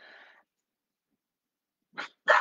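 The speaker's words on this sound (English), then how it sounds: "And now my dog is barking." A pet dog barks indoors, one bark at the start, then silence before two sharp barks close together near the end, fairly close and with no talking over them.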